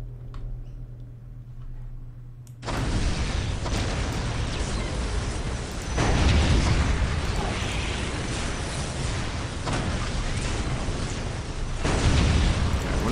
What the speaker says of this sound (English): Initiate strafing run!